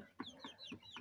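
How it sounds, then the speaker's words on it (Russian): Adler Silver hens and a rooster clucking close by in a quiet farmyard, four short evenly spaced clucks with faint chirping from other birds around them. "От курочек адлерских и от петушка адлерского."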